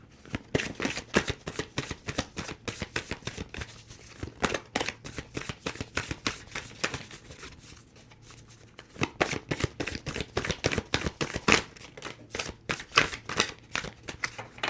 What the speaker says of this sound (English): We'll give it 2 or 3 more shuffles, and if something pops out, then we'll go with it